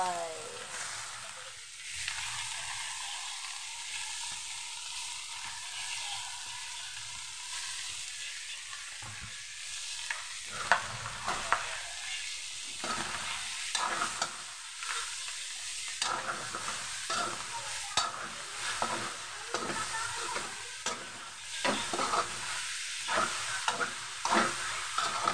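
Boiled banana heart (ubod ng saging) stir-fried in a pan, a loud continuous sizzle with irregular scraping stirs that grow more frequent toward the end, close up, with little or no talk.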